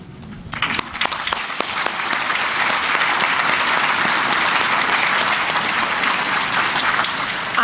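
A crowd at a child abuse prevention breakfast breaks into applause, starting with a few claps and quickly swelling into loud, sustained clapping that holds steady to the end.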